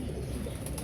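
A pigeon beats its wings in one brief, close flutter of soft whooshing flaps.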